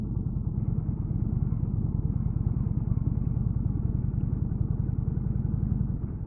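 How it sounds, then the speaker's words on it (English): A 2019 Indian Chieftain motorcycle rumbles along on a ride, its steady, deep, loping engine beat running constantly with no talk over it. "So, this is the Indian Chieftain."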